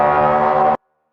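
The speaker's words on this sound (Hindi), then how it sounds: "सबसे पहले वॉर शुरू होने से पहले जो हॉर्न बजाई जाती है उसकी आवाज कुछ ऐसी होती है।" A military war horn sounds before battle, a single loud sustained brassy tone lasting under a second before it cuts off abruptly into silence.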